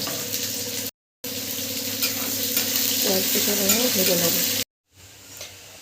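Onions fry in hot oil in a wok with whole spices such as dry chilli, bay leaf and cardamom, making a loud, continuous close sizzle with stirring scrapes, cut by two brief gaps, and a short spoken word near the end.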